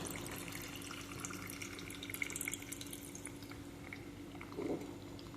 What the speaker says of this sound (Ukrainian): розмішала цю водичку сіллю і заливаю